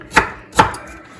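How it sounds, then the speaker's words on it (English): Two crisp knife chops through an onion on a cutting board in a home kitchen, close and distinct, about half a second apart. "I'm going to cut up an onion here."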